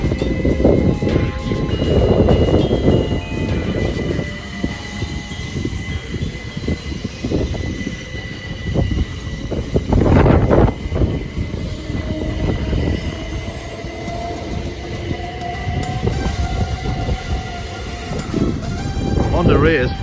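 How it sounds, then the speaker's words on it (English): A pair of Southeastern Class 375 electric trains depart a station, rumbling and clattering steadily over the rails with squealing wheels, loud and near throughout, while a person talks over the sound. "here we have departing a pair of Southeastern 375s bound for Charing Cross"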